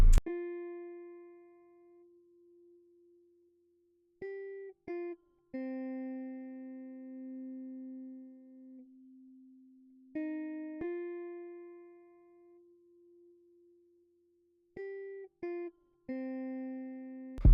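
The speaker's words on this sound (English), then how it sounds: "I played a little top line with my electric guitar" Clean electric guitar with no effects plays a sparse top-line melody of a few plucked notes that ring out and fade, separated by quiet gaps, alone and fairly soft.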